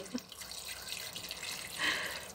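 Water is poured into a cooking pot to cover broccoli for a soup, a soft, close, continuous splashing trickle that swells slightly near the end.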